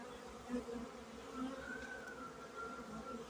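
Buckfast honey bees buzz steadily at the hive in winter, a close, continuous insect drone with no speech.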